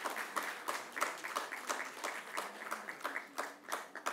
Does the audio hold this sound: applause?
yes